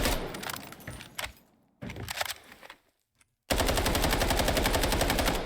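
Rapid automatic fire from an assault rifle in the shooter game Delta Force, a few short bursts with brief gaps, then a loud, steady sustained burst of evenly spaced shots to the end.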